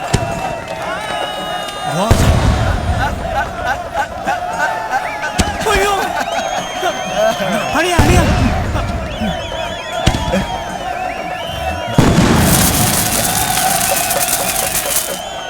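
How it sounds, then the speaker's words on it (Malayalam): Loud booming bursts of fireworks go off every few seconds over a noisy crowd, with people shouting and talking throughout. "വെടിക്കെട്ടൊക്കെ മതി"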